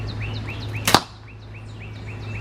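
An arrow striking a backyard target, a single sharp close thunk over a steady low hum, with chirping birdsong repeating faintly in the background.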